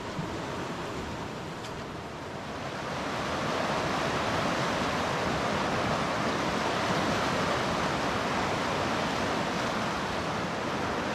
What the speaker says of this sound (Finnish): lähdin vähän kattelemaan tätä koskea ja sitä lampea